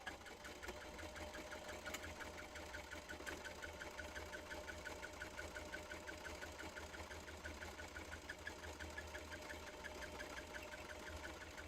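A sewing machine runs steadily while stitching along a straight line during a home crafting session, a continuous mechanical whir with a fast, even needle rhythm that holds throughout, close and moderately quiet.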